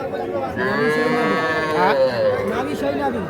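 A Sahiwal bull calf of about four to five months moos in long drawn calls at a busy cattle market, near and loud, with a second shorter moo toward the end over crowd chatter and people talking.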